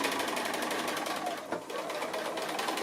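A sewing machine runs continuously while stitching a quilt block, a steady close whirring hum with a brief dip in the middle.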